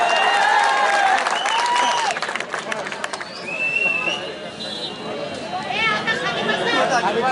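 Crowd clapping and cheering at an outdoor political rally in Aurangabad, a loud dense burst of applause mixed with shouts and chatter that dips midway and swells again, with voices throughout.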